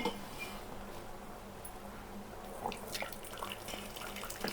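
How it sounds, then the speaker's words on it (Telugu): Water from soaked black-eyed beans pours out as they are drained, a steady close splashing trickle with a few louder splashes toward the end. "ఇప్పుడు మనం ఈ అలసందలో ఉన్న నీళ్ళన్నీ వంచేసుకోవాలి"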